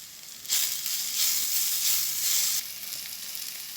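Crushed ginger, garlic and green chilli hit a hot pan for mutton curry, a bright hissing sizzle that swells suddenly, holds for about two seconds, then eases to a softer steady fry.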